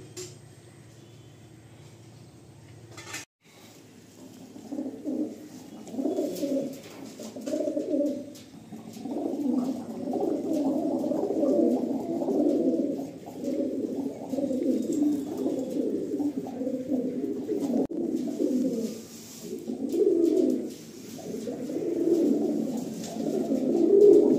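Fulsira pigeons in a home loft cooing in repeated soft, throaty bursts that continue steadily and grow slightly louder toward the end, close by and with no talk.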